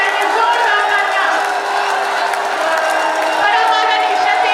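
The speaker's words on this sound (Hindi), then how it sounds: "एक बार जोरदार तालियों के साथ आइए स्वागत करते हैं।" A large public crowd in Hapur welcomes the chief minister with loud, sustained applause and cheering, a dense roaring wash of clapping, with voices mixed into the din.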